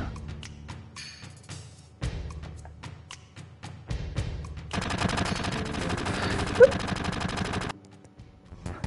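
Gunfire in the 1997 video game Final Fantasy VII: bursts of sharp shots and then a sustained rapid rattle of automatic fire, loud and dense, over game background sound.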